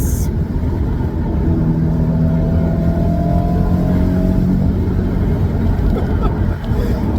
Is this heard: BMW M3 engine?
yes